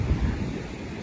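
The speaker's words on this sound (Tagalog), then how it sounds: "alon" Waves wash onto the shore at Dolomite Beach on Manila Bay in a low, rumbling surf mixed with wind buffeting the microphone, steady and moderately loud, with no one speaking.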